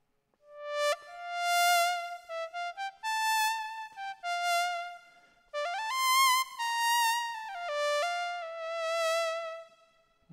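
A Reason Europa software synth, played through a wind controller with reverb switched on, gives a bright, reedy, sustained lead line. Smooth legato phrases with pitch bends and short detached notes are followed by reverb tails that ring out between the breaths.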